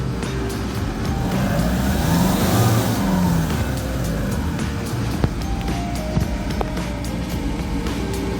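A Kia Bongo III high-top box truck with a manual gearbox accelerates, its engine droning steadily and rising in pitch, loud and close throughout.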